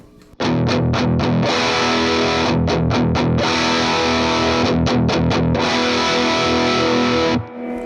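Electric guitar through a Vox AC15C1 amp with a green boost pedal switched on, loud and saturated. Sustained distorted chords are broken by several quick muted chugs, and the sound stops abruptly near the end.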